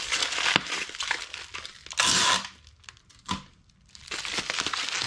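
Packing tape is pulled and stuck around a package wrapped in thick bubble wrap, giving a series of loud tearing, crinkling rips, with a long screech near the middle and short pauses between strips.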